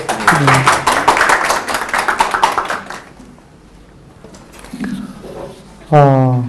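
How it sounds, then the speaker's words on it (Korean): An audience at a lecture on the Book of Job and preaching claps for about three seconds, then the applause fades into quiet before a voice speaks. "여러분 박수로"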